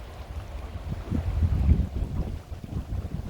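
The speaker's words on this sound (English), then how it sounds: "The wind was giving me an awful time right there." Wind buffets the microphone while fishing from a boat, a low, rumbling, gusty roar that swells in the middle and then eases, with water noise beneath and no talking.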